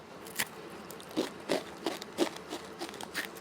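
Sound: eating black sesame biscotti

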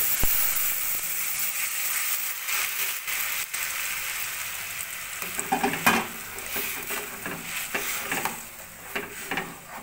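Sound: strained tomato added to frying garlic and ginger in pan

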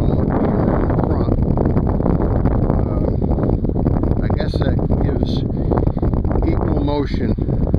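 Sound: wind

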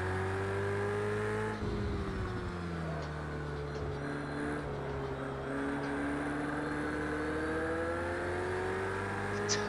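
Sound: Ferrari turbo whine in Project Cars 2 video game

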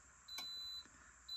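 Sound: high bilge alarm beeping, triggered by float switch on Victron Cerbo

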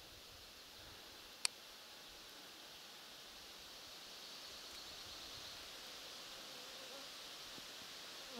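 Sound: mosquitoes buzzing in forest

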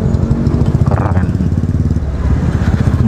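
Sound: rare BMW motorcycle passing on the road

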